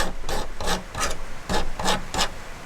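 A hand file bevels the edge of a custom knife handle scale to remove a small burr, giving six or seven close, regular rasping strokes in steady rhythm with no talk.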